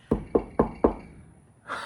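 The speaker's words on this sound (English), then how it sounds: "Knock on wood." Four sharp knuckle knocks on wood land in an even rhythm, close and distinct, followed by a brief soft rustle.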